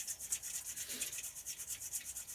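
Compost is sifted through a colander over microgreen seeds indoors, producing a rhythmic, close rubbing and shaking hiss that pulses several times a second without pause.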